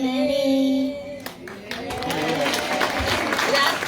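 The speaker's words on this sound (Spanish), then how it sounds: "Un aplauso para Marcela" A held sung note fades out, then a crowd bursts into steady, dense applause for the singer Marcela at an outdoor environmental and cultural gathering in Mbói Ka'ẽ, Caaguazú. The clapping stays loud and continues to the end.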